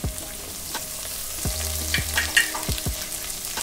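Carrots frying and being stirred in a hot pan for street-style veg Schezwan fried rice, a steady close sizzle broken by several scraping strokes of a spatula, with no talking.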